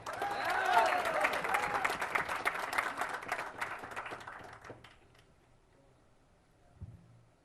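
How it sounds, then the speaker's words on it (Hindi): Audience applause in a hall at a motivational success-story event, a dense, loud burst of clapping that gradually thins and fades out, leaving near silence with a brief voice-like sound at the end. "आप लोगों ने जितना मेरे लिए तालियां बजाई"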